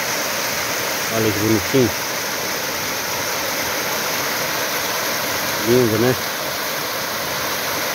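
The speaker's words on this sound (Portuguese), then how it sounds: "é uma mini cachoeira" Small waterfall of water spilling over rock in a natural setting, a steady continuous rush running throughout, with two brief bursts of talk over it.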